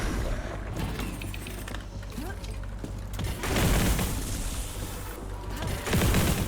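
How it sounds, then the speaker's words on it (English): Repeated heavy booms and crashing bursts from a video game, with mechanical clatter between them, loud and dense throughout. "Many explosions."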